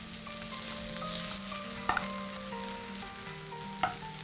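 Chicken frying in a pot for Oshi pulav, a steady close sizzle with two sharp utensil clinks from stirring, one near the middle and one near the end, with no talking.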